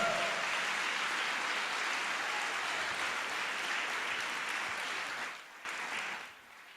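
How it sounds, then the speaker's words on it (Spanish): A church congregation claps together in a steady, dense patter of applause for several seconds before it thins and fades out near the end; no voices stand out. "Dele un aplauso al Señor,"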